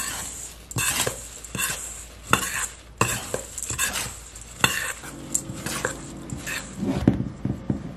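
Dry ingredients for chocolate oatmeal bars being mixed in a bowl, repeated clinking and scraping strokes of a utensil in an uneven rhythm, close and fairly loud.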